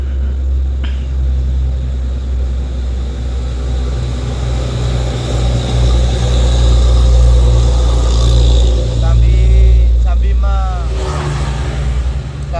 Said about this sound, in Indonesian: Ini sudah pukul 11:30 padahal, tapi masih ramai untuk truknya.